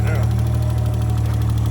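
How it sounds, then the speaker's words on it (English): A car engine idles with a 38mm exhaust leak, a steady close rumble with a fast puffing tick, as someone talks over it. "basically just a 38mm exhaust leak."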